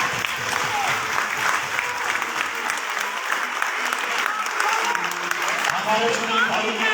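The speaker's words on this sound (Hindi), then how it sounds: "ताली के साथ" A large church congregation applauds continuously, a dense, loud wash of many hands clapping together for the whole stretch with no gaps.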